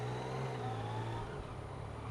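A 2015 Yamaha MT-09 Tracer (FJ-09) motorcycle engine drones steadily while accelerating through the lower gears, heard from the rider's position with continuous wind and road noise.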